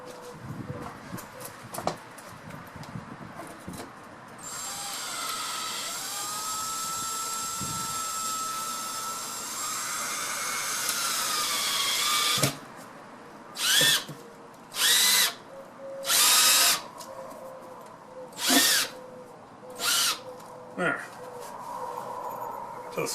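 A power drill drives screws while a round vent hood duct is installed through a wall: several short, loud bursts of whirring, with a longer sustained run before them and a person talking quietly in the background.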